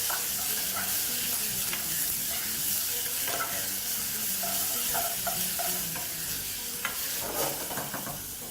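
Mutton stew stirred in a pan over high heat, giving a loud, continuous sizzle of frying with repeated scraping strokes of the spoon close up.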